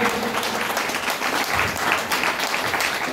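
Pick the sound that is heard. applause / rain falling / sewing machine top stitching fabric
applause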